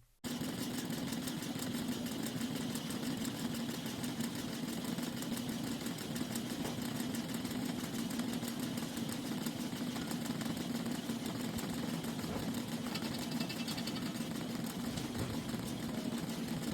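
An electric mixer runs continuously, beating cake batter with sugar for a chiffon-style cheese mamon, giving a steady close motor whir throughout with no pauses and no voices.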